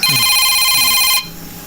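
A telephone rings loudly and steadily with a bright electronic tone, then cuts off abruptly partway through, leaving a low background hum.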